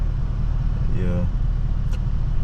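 A Chevrolet Camaro SS cruising through city traffic, with a steady low engine and road rumble throughout and a brief rising engine tone partway through.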